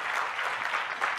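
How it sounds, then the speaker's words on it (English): Audience applause at a music institute talk, a short burst of steady crowd clapping, moderately loud and even throughout, with no voices over it. "So maybe actually we could have a round of applause for these guys"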